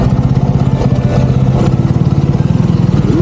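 Tractors approaching along a narrow mountain road, their engines chugging loudly and close with a steady pulsing putter throughout.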